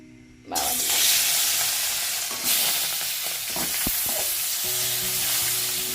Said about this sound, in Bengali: তেলটাও গরম হয়ে গেছে তো মাছগুলো দিয়ে দেব